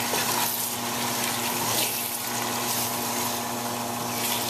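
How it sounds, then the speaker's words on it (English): Mutton or goat meat is stirred into a pulao frying in a pot, giving a steady, close sizzle with wet scraping and mixing noise throughout and no talking. "go ahead and add 2 pounds of mutton or goat to our dish. And go ahead and mix that all together."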